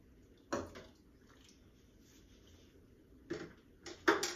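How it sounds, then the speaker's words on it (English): Ladle stirring kale and sausage soup in a pot, three soft clinks and scrapes: one early and two close together near the end, quiet and near with a faint wet slosh, no voices. "Stir this up."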